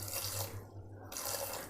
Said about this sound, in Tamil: நம்ம கொஞ்சமாக தண்ணி ஊற்றிக்கலாம்.